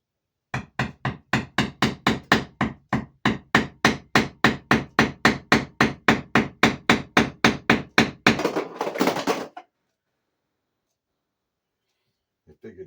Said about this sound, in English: You can do that with the awl and then make the hole bigger.